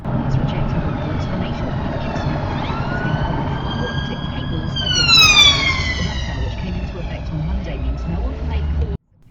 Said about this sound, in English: In this case, it's an ambulance.